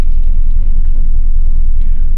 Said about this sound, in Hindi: आप देख सकते हैं कि गाड़ी हमारी आगे मूव कर रही है, आपने हल्की सी रेस देनी है इस तरह करके